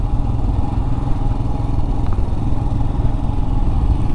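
A Royal Enfield Scram 411 is ridden along at a steady pace, its engine giving a loud, even, low rumble with a constant rough texture and no change in pitch throughout.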